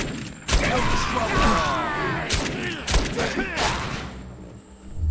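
Gunfire in the shooter game Defiance fires in several loud, broad bursts over a busy mix of weapon effects and other game sounds, with short gaps between volleys.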